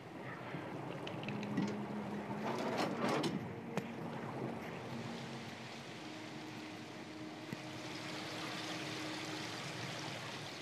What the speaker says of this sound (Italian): Così scende di più l'acqua.